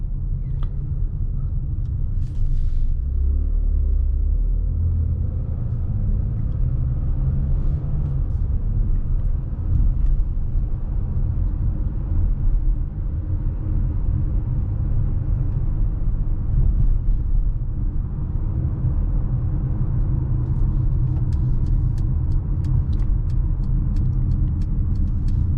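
Car interior during a drive, a steady low engine and road rumble continuing evenly with no abrupt jolts as gears shift, and occasional faint clicks near the end.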